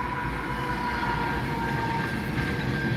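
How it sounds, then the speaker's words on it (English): A fast freight train roars past close by, a steady loud rumble with a faint tonal squeal and no break in the noise. "It's a freight train."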